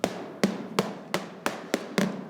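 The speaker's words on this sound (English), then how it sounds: "and I use the hammer." A hammer taps a Parmigiano Reggiano cheese wheel to check for cracks: seven crisp, evenly spaced knocks, close and clear, with no talk.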